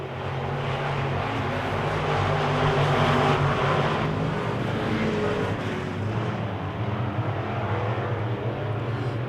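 A pack of Wissota Midwest Modified race cars running hard on an oval track, steady layered engine roar from mid-distance that builds slightly and then eases, with no voices.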